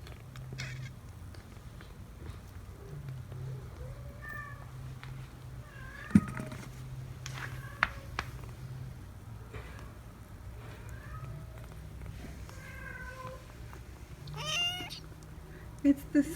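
Young kittens recovering from severe pneumonia mew in short, high calls scattered over a low steady hum, with faint soft movement between the cries.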